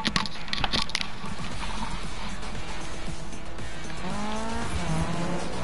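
Racing cars in the Need for Speed video game, a constant loud engine roar with squealing tires and rising revs near the end, no talking.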